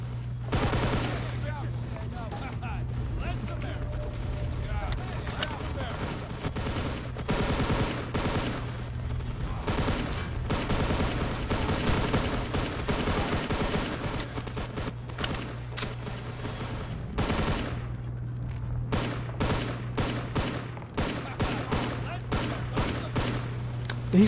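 Guns fire almost without pause in the shooter game Hunt Down The Freeman, a dense stream of rapid shots over a steady low hum, with a voice speaking at times beneath the din.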